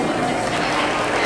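Arena crowd at a horse expo clapping for a horse, a dense, steady wash of applause filling the space without a break.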